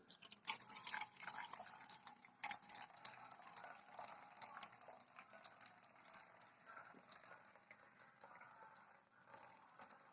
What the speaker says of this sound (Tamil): இந்த வேக வச்ச தண்ணியை தனியா இருத்து எடுத்துக்கலாம்.